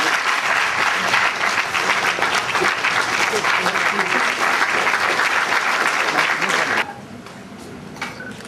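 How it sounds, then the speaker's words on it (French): Sustained audience applause fills a hall at a forum of African women educators, dense and steady for several seconds before dropping abruptly to a quieter murmur of scattered claps. "sous vos applaudissements, messieurs."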